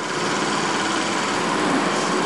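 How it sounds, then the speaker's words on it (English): A toy Stirling engine runs at a toy steam show, giving a continuous, fairly loud high whirring hum that holds steady throughout, with no voices over it. "And the Stirling running away as usual by James Maywald, lovely engine."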